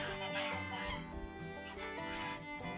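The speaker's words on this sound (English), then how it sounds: "Lots of chickens." Chickens cluck in a rustic Portuguese village yard, a close, continuous run of overlapping hen calls with no talking.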